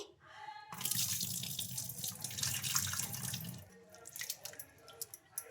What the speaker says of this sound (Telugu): ఇలా వాటర్లో వేసేసుకొని పిండేసుకుందామండి ఇలా బాగా రెండు మూడు సార్లు బాగా కడిగేసుకోవాలండి